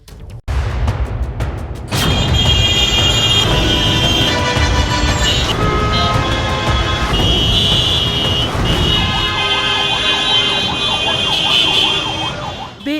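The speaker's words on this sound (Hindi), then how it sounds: "बेइंतहा भीड़ और हॉर्न का नॉन स्टॉप शोर।" Loud, continuous street traffic in a flooded Delhi jam, with sirens wailing and car horns sounding almost nonstop amid engine noise, and a voice faintly audible under the din.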